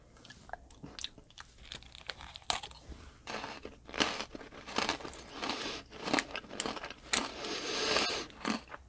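Loud, close crunching and biting, like chewing a hard candy bar, with irregular crackly bursts that build in density, no talking.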